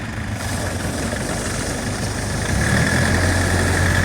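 DF 404 tractor engines rumble and rev hard during a tractor pull, a loud, continuous low mechanical drone that swells slightly louder partway through.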